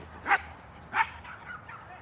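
Two short dog barks or yips from pet dogs at home, spaced about half a second apart, moderately loud against a quiet background, with a faint voice afterward.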